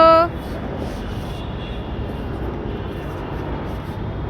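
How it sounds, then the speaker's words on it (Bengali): A helicopter passes overhead above a rooftop, giving a steady, fairly loud broadband drone that holds evenly throughout without breaks. "ওই যে একটা হেলিকপ্টার যাচ্ছে।"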